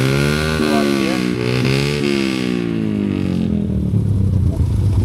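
A group of about ten motorcycles revving their engines up close and loud, with rising and falling harmonic whines over a dense, continuous rumble.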